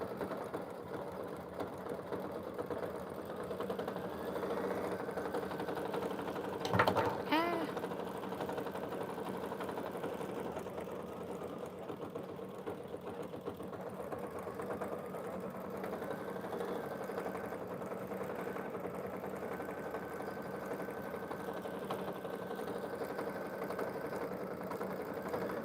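A Husqvarna embroidery machine stitches a mug rug held in its hoop, giving a steady, even mechanical whir with a rapid needle rhythm. It runs on continuously with a brief clatter partway through.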